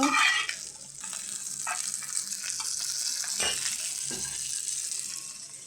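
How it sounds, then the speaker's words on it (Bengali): Fish fries in hot oil with a soft, steady sizzle throughout, broken by a few faint stirring scrapes and clinks, quiet and without talk. "যে মাছগুলো ভাজা হয়ে গেছে এখন এগুলো রেখে দিব"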